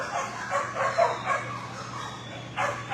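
Dogs barking and yipping in a shelter kennel during an evening walkthrough, with a great big Great Pyrenees nearby; several bursts of barking echo at moderate distance over a steady low hum, with no talk.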